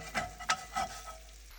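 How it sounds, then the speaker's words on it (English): A spatula scrapes browned, burnt-on sausage bits off the bottom of a frying pan in about three or four quick, close strokes, with no talking. "we can remove it from the pan and then sort of scrape the bottom of it"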